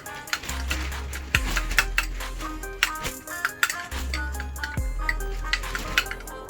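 Brisket taco filling with diced tomatoes, green chilies and jalapeno slices being stirred in a pan, with repeated scraping clinks of a utensil against the pan over a low sizzle, fairly quiet and close.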